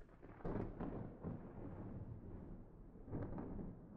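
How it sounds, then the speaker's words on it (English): Thunder rumbles through a thunderstorm in modded Minecraft, with low rolling booms swelling at the start and again near the end, fairly loud and steady with no talking. "And of course, there's a thunderstorm going on."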